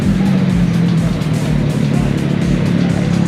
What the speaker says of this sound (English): I hear a couple naked bikes coming.